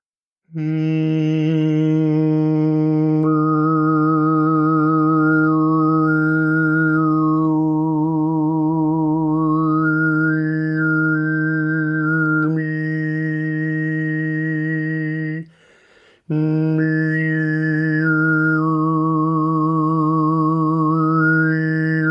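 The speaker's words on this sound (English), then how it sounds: "I stay on a fundamental note now and sing few of these" A singer holds a steady fundamental note while shifting whistling overtones float and glide above it, loud and alone, with one brief pause before the sustained drone resumes.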